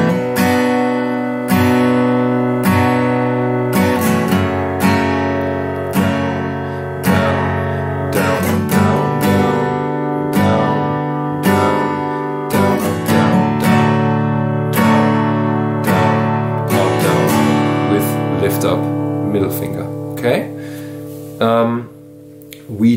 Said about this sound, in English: our verse chord progression sounds like this